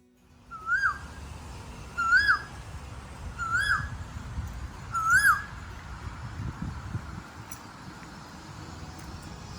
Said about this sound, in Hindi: साथ में पक्षियों की चहचहाहट